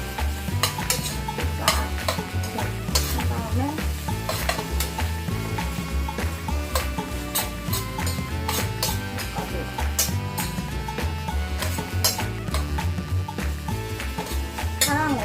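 Meat sizzles loudly in a hot pan while being stir-fried for jjamppong ramen, with steady crackling and repeated sharp clinks and scrapes of a utensil against the pan throughout.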